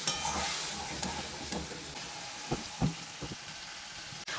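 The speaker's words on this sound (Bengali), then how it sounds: "মশলাটা প্রায় ভাজা হয়ে এসছে" Garlic and dried chili paste sizzling and frying with spices in a pan, a steady hiss with occasional stirring scrapes, close and continuous, no talking.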